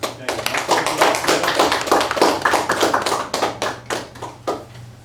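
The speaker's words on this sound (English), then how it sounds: "let us give him another round of applause" A small gathering at a religious meeting giving a round of applause, a fairly sparse, rhythmic patter of clapping hands with individual claps audible, close and steady for several seconds.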